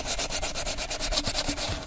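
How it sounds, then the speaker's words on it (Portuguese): Sandpaper rubs back and forth on the cut mouth of a plastic pipe, deburring it before fitting. Roughly a dozen even rasping strokes sound in a steady rhythm, close and alone. "Tô lixando aqui a boca do cano"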